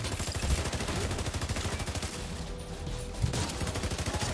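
Rapid automatic gunfire in the PC shooter The Division 2, a loud, fast, even stream of shots running nearly unbroken throughout, close and dominant with no talking over it.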